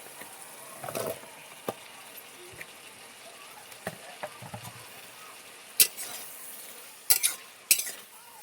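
Malabar spinach stems sauté in spiced oil in a pan with a soft sizzle under intermittent stirring scrapes and sharp clinks of the spatula against the metal. Between the clinks the sound is fairly quiet, and no one speaks.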